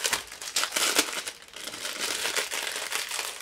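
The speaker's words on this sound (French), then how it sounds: "Désolée pour les bruits de plastique hein." Crinkling plastic packaging rustles and crackles in bursts while a diamond painting canvas kit bought on Amazon is unwrapped, close and fairly loud, with no talking.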